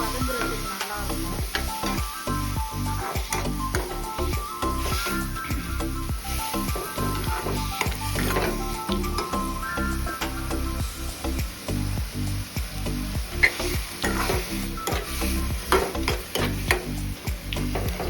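Vegetables sautéing in a pan for a tomato raita, with a steady close sizzle and frequent stirring scrapes throughout, no voices.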